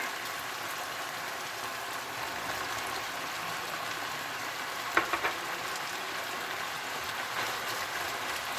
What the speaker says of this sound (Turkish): Ve şöyle bir 5-6 dakika kadar da soğanlarla birlikte kavuralım iyice.